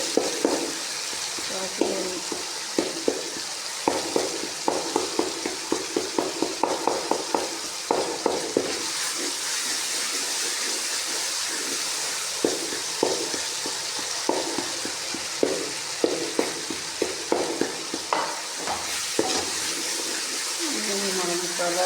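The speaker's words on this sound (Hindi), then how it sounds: "थोड़ा सा मिक्स कर दूँगी टमाटरों के अंदर" A spoon stirs softened tomatoes into sizzling masala in a frying pan, with repeated scraping knocks in an uneven rhythm over a constant close frying hiss while someone talks briefly.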